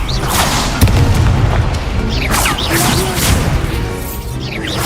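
Repeated spell blasts and booming impacts from combat in the Hogwarts Legacy video game, with loud, dense crashes and bursts layered over a continuous roar of battle effects for the whole stretch.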